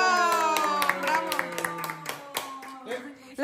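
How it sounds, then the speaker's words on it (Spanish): A few people clap in quick, uneven beats at home for a mother, close and fairly light, while a sustained singing or sing-song voice carries over the claps. "un aplauso para tu mami"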